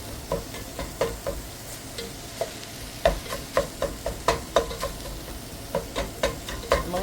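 Homemade hash with onions cooks in a pan, a steady low sizzle broken by a string of regular spatula scrapes and taps, fairly close and unaccompanied by speech.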